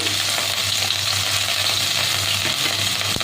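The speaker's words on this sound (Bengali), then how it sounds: "চিংড়ি মাছগুলো ভেজে নেব" Prawns frying with salt in mustard oil, a loud continuous close sizzle with a low steady hum beneath and no talk.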